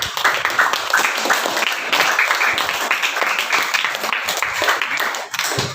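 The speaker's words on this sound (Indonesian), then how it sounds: "Tepuk tangan dulu untuk Pak." Steady, fairly loud applause from an audience at a training session, a continuous wash of clapping throughout with faint voices mixed in.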